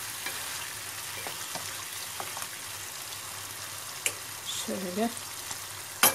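Diced tomatoes with added salt sizzle and fry in a pan with no oil added, with a utensil stirring and scraping now and then; a brief spoken word comes near the end.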